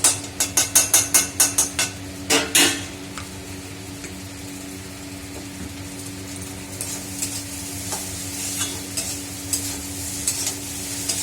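Vegetables frying in ghee with stirring: a rapid burst of about ten sharp metallic spatula knocks against the pan, then a steady close sizzle with occasional softer scraping clicks.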